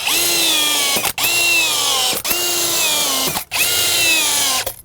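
A power drill whirs loudly in three long bursts, driving screws into a door sill, each winding down briefly between screws, close up with no talking.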